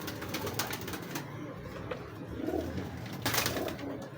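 Soft, low cooing of Teddy pigeons in Lahore repeats in the background, accompanied by faint rustling and scattered chirps, with no talking.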